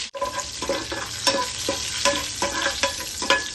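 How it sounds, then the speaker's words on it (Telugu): Curry leaves frying in hot oil with dried red chillies for a chamadumpa (taro) fry, a constant dense crackling sizzle with rhythmic stirring scrapes, close and alone. "తర్వాత కరివేపాకు వేసి ఫ్రై చేసుకోవాలి."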